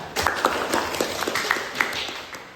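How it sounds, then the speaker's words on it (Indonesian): A crowd at a 1998 Indonesian reform rally claps in a dense, continuous wash, with sharper individual claps poking through for a couple of seconds at a steady level. "Yang mau tolak Habibie tepuk tangan"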